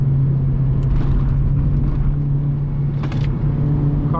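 A Honda Civic Si on a warm-up lap around a race track, its engine a steady droning rumble from inside the cabin with a constant low hum, continuous and fairly loud throughout.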